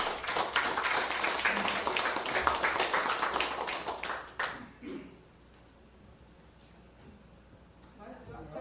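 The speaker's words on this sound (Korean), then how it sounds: "대한사랑 연수원장님을 힘찬 박수로 환영하여 주시기 바랍니다" Audience applause welcomes a speaker at a lecture on modern history: a few seconds of dense, lively clapping that fades out abruptly, followed by quiet room tone.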